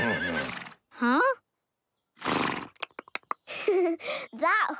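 A horse whinnies loudly several times, high wavering neighs separated by short pauses, with a burst of snorting or clattering in between.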